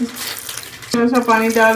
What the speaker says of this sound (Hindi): और थोड़ा सा पानी डाल के